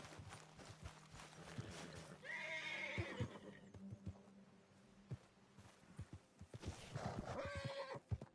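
A horse whinnies twice in Red Dead Redemption 2, long shrill neighs over clopping hooves and scattered footfalls, fairly near and distinct, with quiet background sound in between.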